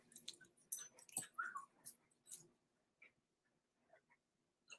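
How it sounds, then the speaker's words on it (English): A dog barking sharply in a few loud bursts, then quieter scattered yelps and noises trailing off into near silence. "any sound she hears that she doesn't like, she barks and charges at me"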